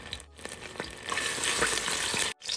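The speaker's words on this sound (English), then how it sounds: "So I'm just gonna add about 2 teaspoons of garlic." Supermarket garlic paste sizzles and fries in a hot pot, a soft continuous crackle that swells after a stir, with light scraping throughout.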